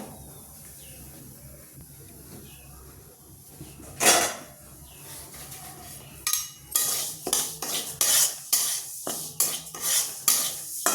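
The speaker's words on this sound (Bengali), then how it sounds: "প্রথমে আমি কড়াইয়ে ডালিয়াটা একটু মুগ ডালটা একটু ভেজে নেবো" Dalia and moong dal dry-frying in a wok, with a faint quiet start and then a series of sharp metallic spatula scrapes and clinks against the pan that repeat in an uneven rhythm.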